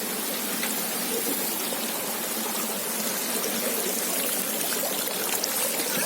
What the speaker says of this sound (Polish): Nie fontanna, wodospad.